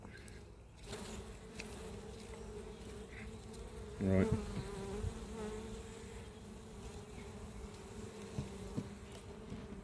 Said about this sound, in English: I'm just going to shake these bees off in here.